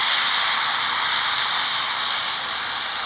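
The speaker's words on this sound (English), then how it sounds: "Throw this chicken on. Oh, I can't wait for the sizzle." Steady, loud frying hiss of chicken cooking on a hot Blackstone 17-inch grill, a dense sizzling wash with no talking and no breaks.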